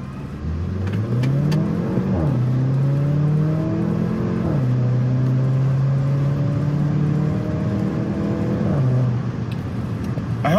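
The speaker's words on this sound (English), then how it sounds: "I hope you can hear the transmission underneath the car clunking" A 2020 Porsche Macan in sport mode accelerates from inside the cabin, its engine note climbing and dropping through several upshifts with faint clunks at each gear change.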